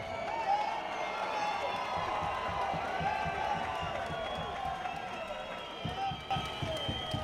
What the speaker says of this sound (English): Cody, listen to this crowd